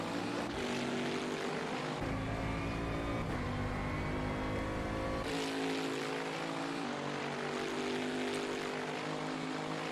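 GT3 race car engine in the sim racing game rFactor 2 at Austin, a sustained droning whine with shifting pitch as the car runs on track, heard alone at moderate level.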